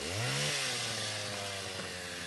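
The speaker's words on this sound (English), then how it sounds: "like this chainsaw noise just completely ends" A chainsaw engine idling, a steady low motor hum with buzzing harmonics that dips slightly after a brief rev at the start, faint and continuous.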